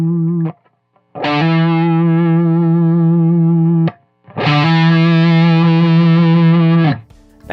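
Electric guitar played through a Tonebone Classic V9 distortion pedal: two long, heavily distorted sustained chords with rich buzzing overtones, each cut off sharply, loud and close.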